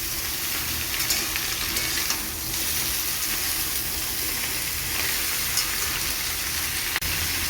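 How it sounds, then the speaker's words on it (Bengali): Star fruit pieces fry in hot oil with spices, giving a steady, dense sizzle that runs throughout with occasional stirring scrapes, close and fairly loud, no voices. "কামরাঙ্গাগুলোকে তেলে একটু ভাজা ভাজা করে নেব"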